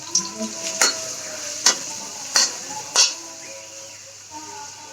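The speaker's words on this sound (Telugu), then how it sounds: "ఉల్లిపాయలు అయితే బాగా ఫ్రై అవ్వాలి" Onions with green chilies and curry leaves fry in hot oil, a soft background sizzle punctuated by five sharp metallic clinks of a spoon against the pan at an uneven rhythm.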